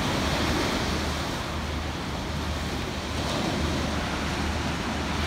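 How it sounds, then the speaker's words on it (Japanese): Ocean waves break and wash steadily at a busy surf beach in Kamakura on a November Sunday, a continuous broad roar with gentle swells and light wind noise, no voices. "おっと、波が来だしました。"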